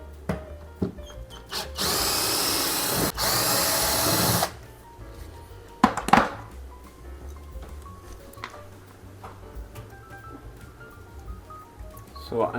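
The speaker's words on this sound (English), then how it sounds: "I'm going to cheat and use my little miniature electric drill because it's got a Robertson fitting in the top." A small miniature electric drill fitted with a Robertson bit drives screws while a ceiling light is installed in a kitchen; two loud whirring bursts of about a second each, followed by clicks and handling noises.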